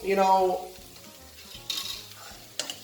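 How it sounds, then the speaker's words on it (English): Cauliflower sizzles in a hot pan while being stirred, a steady frying hiss broken by a couple of sharp scraping clatters of utensil against the pan; a low humming tone sounds at the start. "I like the cauliflower to burn a little bit almost, and it's not there yet."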